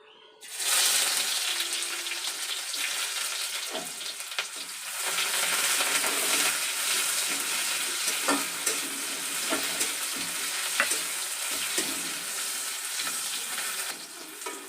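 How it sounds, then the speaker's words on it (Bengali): Chopped onion drops into hot oil and bursts into a loud, steady sizzle, with occasional clinks and scrapes of stirring over the frying for the rest of the stretch. "तेल गरम हो गेছে, দিয়ে দেব পেঁয়াজ কুচি।"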